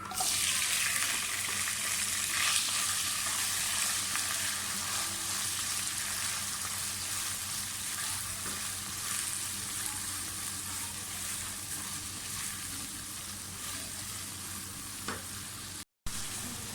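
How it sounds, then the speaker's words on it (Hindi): Onions frying in oil with cumin, a steady sizzle with occasional stirring scrapes, close and continuous, no voices. "प्याज फ्राई हो गए"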